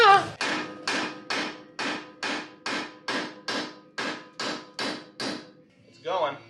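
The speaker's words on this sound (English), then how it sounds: "smacking a sledgehammer metal to metal isn't a very nice noise" Sledgehammer blows hammering a wheel stud out of a Mazda Miata hub, metal on metal: about a dozen loud, evenly spaced ringing strikes, then a short pause and a softer final knock.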